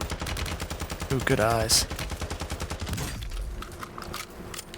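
Warzone 2 gunfire rattles along as steady rapid automatic shots for the whole stretch, loud and close, while a voice speaks briefly over it.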